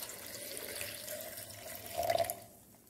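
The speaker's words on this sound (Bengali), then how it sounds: "এটা জল দিয়ে ভরে দেব।" Water running from a tap into a container being filled for kanji, a soft continuous stream that swells briefly louder near the end, heard alone and fairly quiet.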